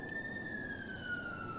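Police car siren in GTA 5, a steady, moderately loud wail that glides slowly downward in pitch, with a low rumble of engine and traffic underneath and no talking.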